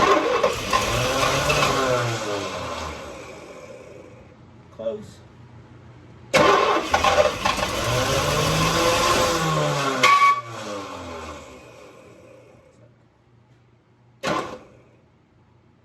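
A flooded 1966 Oldsmobile Toronado barn-find engine cranks, catches and runs roughly before dying. A shorter crank follows, with someone talking nearby.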